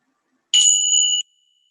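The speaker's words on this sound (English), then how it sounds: "allow your awareness with sound to really follow the chime until the very end of its sounding" A meditation chime rings once to close a mindfulness practice, a bright, clear tone with two sustained pitches that strikes sharply and hangs steadily for about seven-tenths of a second before cutting off, heard alone in silence.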